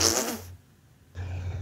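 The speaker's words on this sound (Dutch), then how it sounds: "Dat klonk als een scheet." Two short, loud, breathy fart-like blasts, separated by a half-second pause, sound close by during a casual online game session among friends.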